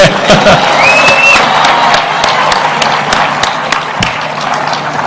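A school audience applauds and cheers for a group of girls after their performance, a dense, steady wash of clapping, whoops and crowd noise from start to finish with no speech over it.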